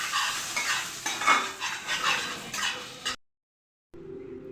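Panch phoron whole spices frying in hot oil in a pan, a busy crackling sizzle with stirring scrapes for about three seconds, then a sudden cut to silence and a quieter hum afterward.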